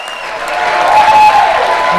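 A crowd at a Donald Trump speech breaks into applause that swells and holds steady, loud and dense, with his voice faintly underneath.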